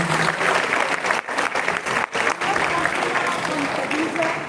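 An audience applauds family guests in a steady, loud round of clapping that runs the whole time, with a voice heard faintly beneath it.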